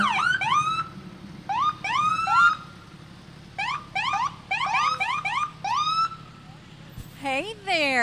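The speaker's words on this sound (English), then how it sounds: "That's my friend Bill Mills in the Callaway County Fire and Rescue truck this morning." Siren of a Callaway County fire and rescue truck in a homecoming parade, a series of loud rising electronic whoops in bursts with short gaps, ending in a longer wailing sweep.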